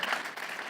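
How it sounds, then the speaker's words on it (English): A church congregation applauds during a Sunday sermon, a brief, even wash of distant clapping from a large room. "Let's give them a round of applause."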